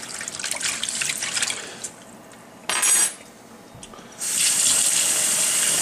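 Tap water running into a sink while conch is rinsed, a bright hiss in bursts that stops and starts, with a clink of utensils in between and a steady close stream at the end.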